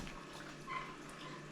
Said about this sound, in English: So I'm just going to take things out, give them a little rinse here.